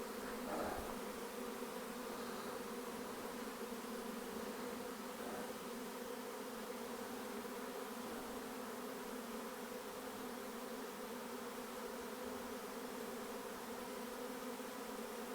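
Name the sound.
honey bee swarm buzzing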